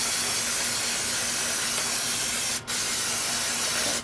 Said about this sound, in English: Get a little brake cleaning.